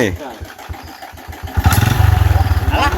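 A motorcycle running low on fuel is kick-started: a run of rhythmic thumps from the kick, then the engine catches with a loud burst and settles into a close, throbbing idle.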